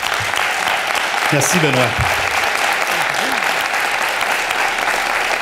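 Steady applause from a crowd fills the whole clip, even and continuous, while a voice speaks briefly over the clapping.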